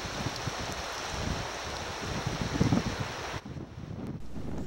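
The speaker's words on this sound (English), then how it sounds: "This is our campsite with about 15 knots of wind blowing" A wind of about 15 knots blusters steadily across a riverside campsite on the Jama River, buffeting the microphone with low rumbling gusts that persist throughout.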